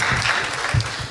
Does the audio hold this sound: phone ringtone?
no